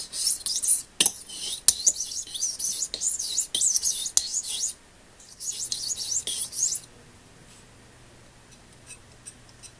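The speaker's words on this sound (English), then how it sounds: "Knife sharpening is something you want to get in the habit of doing." A kitchen knife being sharpened, heard as close, bright scraping strokes in quick irregular bursts with sharp ticks, stopping after about seven seconds and leaving near silence.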